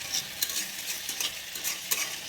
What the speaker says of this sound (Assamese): আলুটো অকণমান পিছত দিম। এইখিনি ভাজি ল'ম এতিয়া